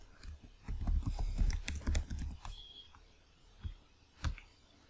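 Typing a username and password on a computer keyboard, a quick burst of close key clicks followed by a pause and two separate final key presses.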